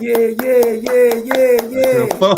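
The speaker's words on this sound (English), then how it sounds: "That's your applause." Rhythmic hand clapping at a live talk event sounds as crisp, evenly spaced claps beneath a loud, sustained voice that carries over the whole stretch.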